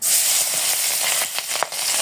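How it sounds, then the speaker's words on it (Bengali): Fish goes into hot oil in a wok with a loud, continuous close-up sizzle, and brief crackles and stirring scrapes pop up near the end. "এখন আমি মাছ দিয়ে দিই। তেল গরম হয়ে গেছে গা।"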